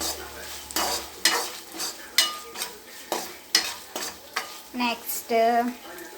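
A spoon stirs and scrapes through ingredients with ginger-garlic paste in a cooking pan, a run of loud repeated strokes with a light sizzle beneath them, close up.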